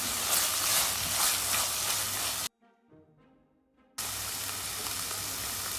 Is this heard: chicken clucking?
no